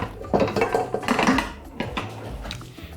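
A cooking pot for a cauliflower and macaroni bake is picked up and handled, giving a few close metallic clanks and knocks in quick succession over a short moment.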